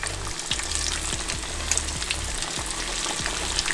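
Ribs sizzle and crackle steadily in hot oil on a stove, a close, dense frying hiss with brief pops, with no voices.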